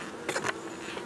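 Buzzing of honeybees close by, a steady hum with a couple of brief louder swells, like bees moving around a hive, some doing the waggle dance.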